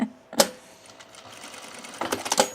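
A sewing machine stitches fabric for a sunblock top in a short run, a soft mechanical hum framed by a few sharp clicks and taps at the start and end.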